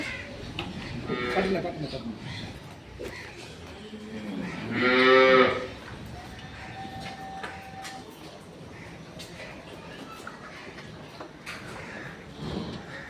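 A dairy cow on a farm gives one loud, drawn-out moo close by, lasting about a second. Quieter shuffling and farmyard noise carry on around it, and people talk at times.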